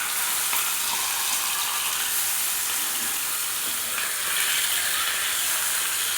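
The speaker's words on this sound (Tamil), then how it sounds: "இதில் அப்படியே நம்ம ஃப்ரை பண்ணிக்கலாங்க." Green masala coated fish fries in a pan, a loud, dense, continuous sizzle and crackle of hot oil heard close up and without pause.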